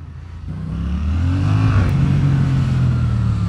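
A Yamaha MT-07 motorcycle accelerates on a test ride, its engine note rising from a low rumble into a loud, steady, climbing drone, heard close up with wind noise and no talking.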